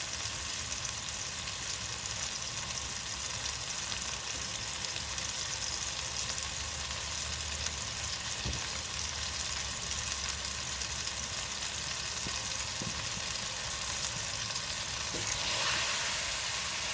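Masala for palak chicken curry frying in a pan over a medium flame, giving a steady, even sizzle with a hissy crackle that runs unbroken from start to finish, with no voices.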